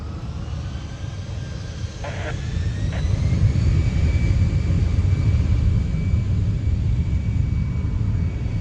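An aircraft departing at the Royal International Air Tattoo airshow produces a loud, sustained engine roar that swells after the first seconds and holds steady, with a thin tonal whine riding above the rumble.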